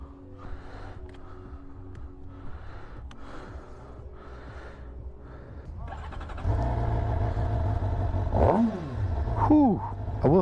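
A 2023 Suzuki GSX-R750 motorcycle idles with a low, steady engine note, then its engine fires up louder and close by, with sharp throttle blips and rising revs near the end.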